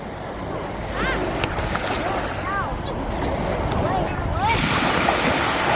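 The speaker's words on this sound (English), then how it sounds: "Because I'm in the ocean." Ocean waves wash at a beach under strong gusty wind buffeting the microphone, a continuous rushing roar that swells toward the end, with brief high squeaky voices breaking through.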